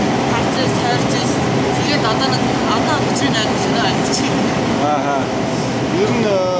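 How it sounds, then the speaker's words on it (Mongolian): A metro subway train rumbles and rattles steadily with a loud, continuous roar of the running carriage and faint squeals. People talk over the noise. "Ер нь энэ метро нь ямар шиг байна?"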